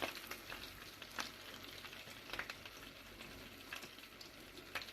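Floured oxtails brown in a pan with a soft, steady sizzle and faint crackles, quiet and close, with no voices.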